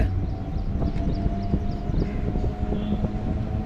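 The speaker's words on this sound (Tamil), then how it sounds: "பட்டாபிராம் ரயில்வே ஸ்டேஷன்லேருந்தும் இப்போ ட்ரெயின் ஸ்டார்ட் ஆகிடுச்சிங்க" A train pulls out of Pattabiram railway station on the Chennai suburban line, giving a steady, close rumble with droning tonal hums and scattered clanks throughout, with no voices.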